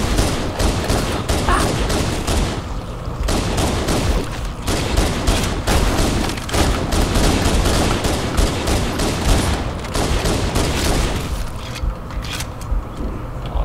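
Rapid handgun fire in Halo CE, dense bursts of sharp shots repeating almost continuously, loud and close, with brief pauses and mechanical clatter.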